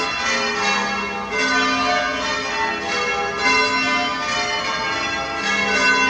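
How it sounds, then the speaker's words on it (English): Church bells of St Andrews Church, Plymouth, ring steadily for morning service, fairly loud, their overlapping tones sustained throughout with no voices present. "the church bells are calling for morning service"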